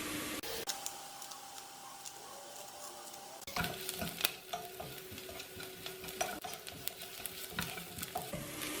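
Masala for egg biryani is stirred in a frying pan, a steady soft sizzle with repeated scraping and tapping of the spoon against the pan, close and fairly quiet, with no talk.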